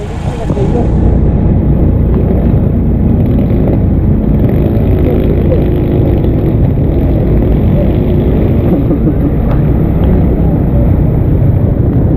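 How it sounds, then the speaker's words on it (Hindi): Motorcycle speeding through a flooded street in rain in Karachi: continuous engine roar and water rush, loud and close, steady throughout with a brief rise near the start, no voices. "यहाँ से देखते हैं मोटरसाइकिल वाला कोई बहुत तेजी से जा रहा है।"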